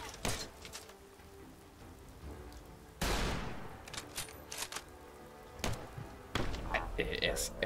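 Bursts of sharp gunshots in Fallout 4 crack out in irregular clusters, some in quick volleys, with clicks and thuds between them over a low background hum.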